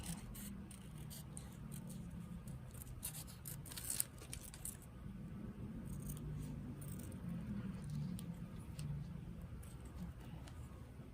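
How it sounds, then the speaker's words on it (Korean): Scissors cut small round paper eyes for a craft owl, with faint, soft snipping and rustling at close range and one sharper snip midway, in a quiet room with no talk. "동그랗게 잘라서 제가 두 개를 만들었어요"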